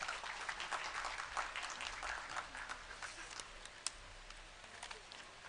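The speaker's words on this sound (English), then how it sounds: "Ladies and gentlemen, please welcome with a big round of applause." Audience applause at the opening ceremony of the American Oncology Institute, a steady dense clatter of clapping that fills the whole stretch at moderate level, with one sharper crack partway through.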